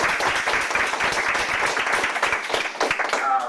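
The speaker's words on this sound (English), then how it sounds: "Let's thank Israel with a round of applause." Sustained audience applause at a university lecture, dense crowd clapping filling the room loudly for several seconds before tapering slightly at the end.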